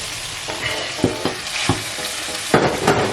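Peppers hit a pan of sizzling Portuguese chicken curry, a loud steady fry broken by several sharp stirring scrapes and clacks, with no voices.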